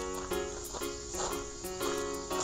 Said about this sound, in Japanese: セミとかが鳴いていてザ夏って感じだな。